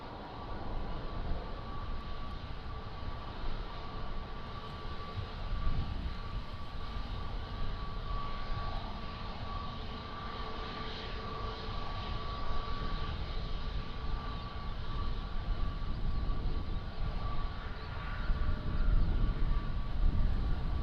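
An airliner arriving at Lisbon Airport makes a sustained engine roar with a steady whine that slowly swells over about twenty seconds and grows louder toward the end.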